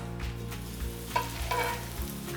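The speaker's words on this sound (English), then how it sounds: "I'm hearing that nice sizzle" Fish fillets fry in extra virgin olive oil in a pan, giving a steady, soft crackling sizzle with faint clinks, heard alone at a moderate distance.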